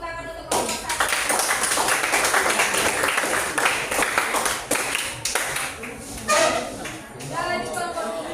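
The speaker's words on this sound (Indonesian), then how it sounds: "Kita kasih tepuk tangan untuk kelompok 1." A classroom of students applauds a group after its presentation, giving a dense burst of clapping that runs for several seconds, with voices talking over and after it.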